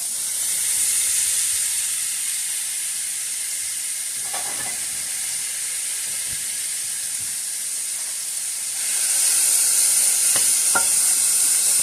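Diced ham, celery and onion frying in a pan over medium heat, a steady close sizzle that swells louder near the end, with a few faint utensil stirs and no voices.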